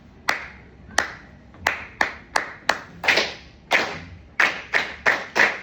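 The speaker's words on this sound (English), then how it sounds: "So I'll clap the pattern to you. You'll clap it back to me." Hands clapping a rhythmic pattern in a piano class, about fourteen sharp, close claps in uneven groupings with short gaps between phrases, alone with no talk.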